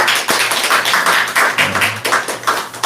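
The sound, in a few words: clapping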